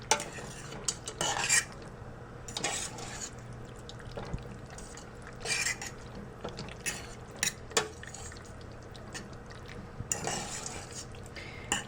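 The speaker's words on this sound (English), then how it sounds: "I'll keep stirring just in case" A utensil stirring a mixture in a pot, giving a series of close scraping and clinking strokes at irregular intervals over a quiet background, with no voices.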